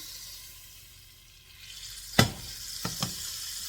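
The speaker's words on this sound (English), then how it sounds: "So I have 2 tablespoons of butter, softened, that I'm going to melt in my pan here." Two tablespoons of softened butter melt in a pan, a faint quiet sizzle that swells slightly, followed by a sharp clack and two lighter knocks close by, no voices.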